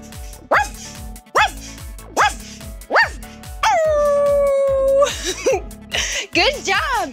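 Voices imitate a dog in a children's cartoon, giving a string of rhythmic barks, then a long sustained howl and a few more yips, loud and close over a bouncy musical backing.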